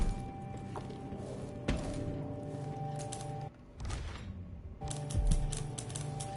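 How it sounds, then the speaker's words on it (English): Someone types on a typewriter in the video game Dishonored 2, a rapid run of clacking keystrokes with a few heavier thumps, fairly quiet and mid-distance against steady ambient game background. "There's a guy typing over there."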